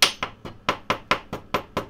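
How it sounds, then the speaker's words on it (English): A chasing hammer taps the tip of a wire to flare it into a small jewelry brush, giving nine quick, evenly spaced metallic strikes, close and crisp. "My chasing hammer. And I'm just flaring out the tip of this and making a toothpick brush."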